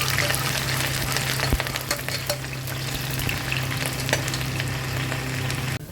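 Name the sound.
sliced onion frying in oil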